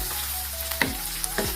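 Tomatoes and bell pepper fry in a pot, giving a low steady sizzle with a few soft scraping stirs and light knocks, close and fairly quiet, with no talking.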